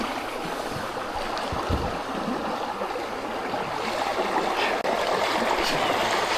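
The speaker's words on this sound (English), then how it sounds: "Oh, this water's moving." A creek flows steadily nearby, its water rushing and gurgling in a continuous broad wash with a few small splashes and knocks along the way.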